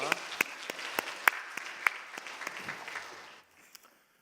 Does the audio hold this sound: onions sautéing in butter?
no